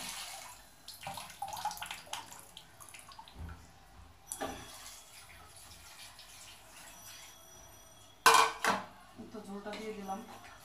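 Water is poured into a cooking pot while dishes and utensils clatter in a home kitchen. Soft handling noises lead up to a sharp, loud clank and splash near the end.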